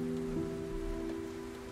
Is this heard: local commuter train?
no